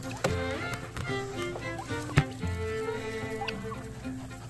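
A turkey gobbles among chickens in a farmyard, its rapid, rattling calls fairly faint and mixed with scattered clucks and short cackles.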